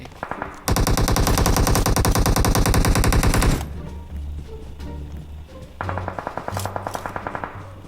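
Automatic rifle fire in the PUBG Mobile battle game on the Livik map: a loud sustained burst for about three seconds, then quieter scattered shots, and a second rapid burst near the end.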